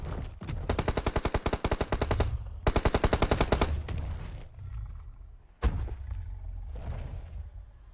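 Automatic gunfire in PUBG Mobile, two long rapid bursts of machine-gun shots close and loud, followed by a sharp single blast and lower rumbling.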